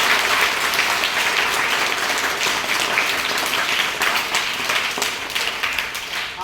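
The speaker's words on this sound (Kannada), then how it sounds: "ನಮ್ಮ ಶಾಲೆಯ ಎಲ್ಲ ಮಕ್ಕಳಿಂದ ಒಂದು ಅಭಿನಂದನೆಯನ್ನ ಚಪ್ಪಾಳೆ" Schoolchildren applaud to congratulate a classmate who won a throwball match, a loud, continuous roar of many small hands clapping close by, sustained evenly for several seconds.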